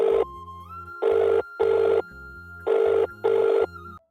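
A telephone rings in repeated double bursts, five rings with short pauses between them, clear and close, with no one speaking.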